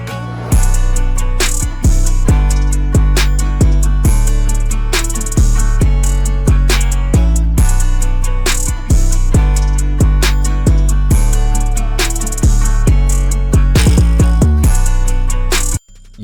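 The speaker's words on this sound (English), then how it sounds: "It's like a very hard hitting 808" Hard-hitting, bouncy 808 bass driving a country rap beat, with deep booming low notes pulsing in a steady rhythmic pattern alongside punchy drums and layered melodic instruments, loud and continuous throughout with no voices.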